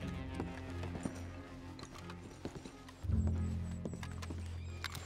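Horse sounds in a video game, with clopping hoofbeats and a neigh over a busy game soundscape, growing louder and heavier about midway through.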